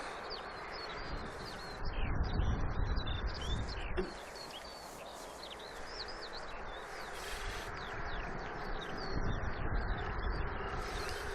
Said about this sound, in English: the bird noise, but you can't see anything